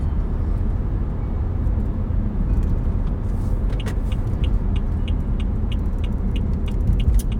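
A car on the road gives a steady, close engine and road rumble that holds through the whole stretch, with faint high clicks from inside the cabin.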